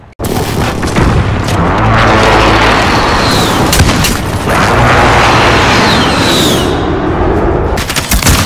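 Loud, dense gunfire and booming grenade blasts in an online Call of Duty Modern Warfare match, a continuous barrage of rapid shots and heavy explosions filling the whole stretch.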